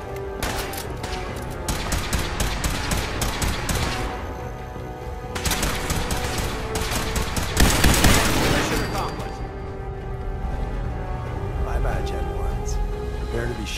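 Rapid bursts of game gunfire in Fallout 4 come in dense volleys, heaviest early and again around the middle, layered over music and effects while voices talk through much of it.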